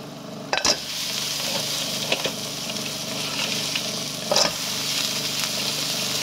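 Garlic sizzling in Star margarine in a pan, a steady close frying hiss with a few sharp clinks of utensils against the pan, with no talk.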